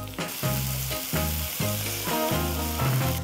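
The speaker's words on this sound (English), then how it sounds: "Saute the onions till it turns golden brown." Chopped onions sizzle loudly in hot oil after garlic has been sautéed, with a continuous fry punctuated by several rhythmic stirring scrapes and pan knocks, close and with no voices.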